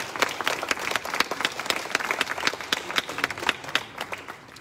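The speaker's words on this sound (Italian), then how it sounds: "Un applauso per Diego Rossi." Applause from an audience at an evening public event in Borgo Val di Taro, greeting the town's mayor: dense, steady clapping with sharp individual claps standing out, sustained for several seconds without fading until near the end.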